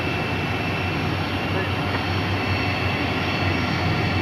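A 33-year-old Boeing 747 freighter at Brisbane Airport gives a continuous, loud jet engine roar that holds steady throughout, with voices talking over it.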